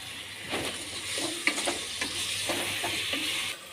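Biryani being stirred in a frying pan: a steady sizzle with repeated scraping and clinking strokes of the spoon, close and fairly loud, with no talking.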